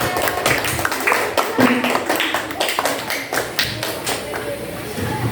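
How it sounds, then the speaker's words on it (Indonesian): A group of schoolchildren in a classroom clap together for a classmate, a dense burst of fast hand claps lasting several seconds, close and fairly loud, with voices mixed in. "Kasih tepuk tangan untuk Mbak Fira."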